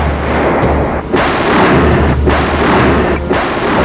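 A big modern artillery gun fires high explosive shells weighing about 1.5 tons, with heavy booming blasts and rumbling echoes rolling through continuous low roar, several sharp reports standing out over the din.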